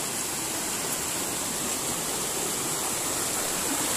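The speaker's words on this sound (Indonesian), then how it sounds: "itu adalah sungainya" A flowing river at a spring-fed fishing spot gives a steady, dense rushing wash of water with no pauses, close and fairly loud.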